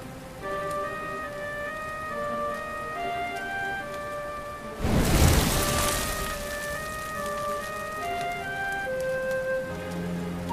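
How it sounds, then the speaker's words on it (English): Steady rain falls in the Dragon Quest XI video game, a dense hiss on surfaces under soft musical tones, with a brief louder burst of rain or thunder-like rush midway before settling back. "Looks like the rain's dying down."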